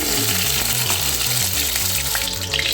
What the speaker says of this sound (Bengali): আমার পটলগুলো প্রায় ভাজা হয়ে গেছে লাল লাল করে